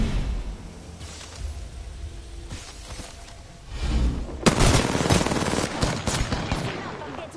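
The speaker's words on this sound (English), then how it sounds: "I'm getting shot at." Gunfire in the video game Apex Legends, fairly quiet at first and then a dense burst of rapid automatic shots with sharp cracks that keeps going through the second half.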